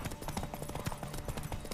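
Horse hooves clip-clop in a steady, quick rhythm in the Witcher 3 video game, layered over busy game sound and music with a faint whinny now and then.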